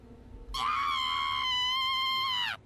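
A long, high, piercing scream sounds for about two seconds in the video game Return to Shironagasu Island, sustained at one pitch and cutting off abruptly, loud over faint background.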